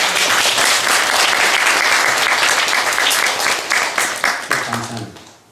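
Korean church congregation breaking into warm applause for its deaconesses, a full, sustained wash of many hands clapping that thins out and fades over the final second or two, no voices over it.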